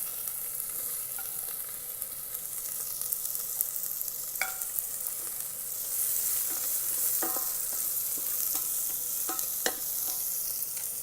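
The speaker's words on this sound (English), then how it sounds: "Now we add chopped onion," Chopped onion sizzles in hot oil with curry leaves in an Instant Pot, a quiet steady crackle punctuated by sharp clicks of a spoon stirring against the metal pot.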